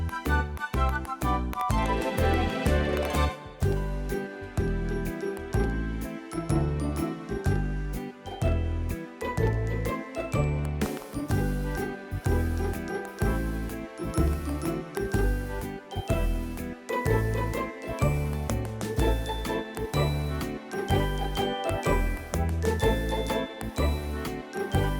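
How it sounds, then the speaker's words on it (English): Tap dance swing style from a Yamaha CVP709 digital piano, with a busy swing backing and crisp percussive tap-dancer clicks throughout, steady and loud with no talk. "The next style is called tap dance swing, and again in this style you'll actually hear the tap dancers in the background."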